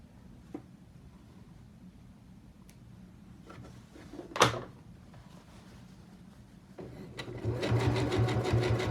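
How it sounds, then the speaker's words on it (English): An EverSewn Sparrow 20 sewing machine stitches a Levi's jeans hem, with a few clicks and a sharp knock early on before the motor starts its steady, rapid needle chatter that grows louder near the end. "I'm going to sew over those next few stitches there, and then go ahead and go back"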